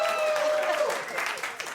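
A television studio audience bursts into applause and cheering after a comedy segment on a late-night talk show, loud and sustained clapping that gradually tapers off over a couple of seconds.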